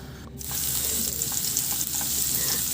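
Garlic sautéing in hot oil in a pan gives a steady, close sizzle with faint utensil scrapes, growing fuller after the first half-second.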